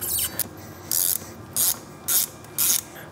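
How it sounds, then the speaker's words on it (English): A ratchet backs Torx bolts out of a Harley-Davidson five-bolt brake rotor in five short, loud clicking bursts separated by brief pauses. "This is the standard Harley-Davidson 5-bolt design, so we will be removing all 5 of these Torx bolts."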